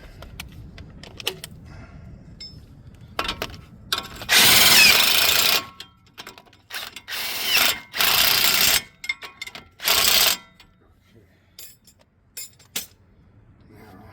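Bolts being tightened on the tie rod and strut of a 2012 Nissan after a wall impact, heard as loud bursts from a power tool between ratcheting, clinking tool and metal handling sounds close by, with no talking.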